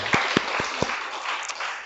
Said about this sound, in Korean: 우리 그분께 영광의 박수 올려드렸으면 좋겠어요